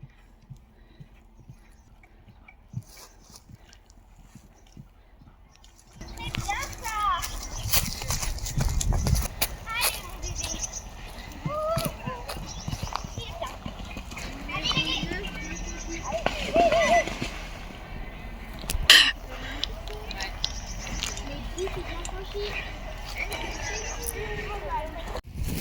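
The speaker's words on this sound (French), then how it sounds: "Mais ce petit poney est trop chou." Pony hooves clip-clop across a show jumping course in an uneven, continuous rhythm, with crowd and arena noise around them and people talking over the top.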